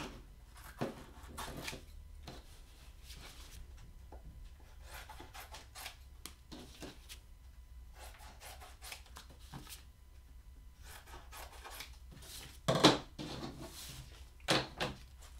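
Scissors or a blade trimming printed vinyl car decals at a work table, a run of soft snips, rubs and paper handling with a few sharper clicks near the end, close and fairly quiet.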